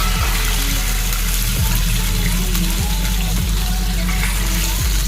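Water is poured into a cooking pan for semolina, a loud, continuous rushing splash lasting the whole stretch, with a low rhythmic hum beneath it.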